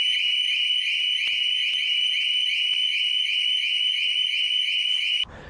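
A piercing electronic anti-theft alarm on a 2018 Harley-Davidson Fat Bob motorcycle wails continuously in a rapid repeating warble, loud and steady, cutting off abruptly just before the end.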